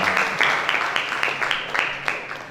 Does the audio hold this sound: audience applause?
yes